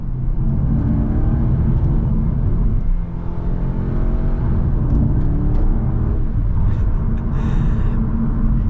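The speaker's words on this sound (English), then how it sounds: "And you got a little bit more burble with the exhaust." A 2025 Audi S3 Vorsprung drives in second gear, its engine and exhaust rumbling and whirring steadily with faint intermittent burbles and pops near the end.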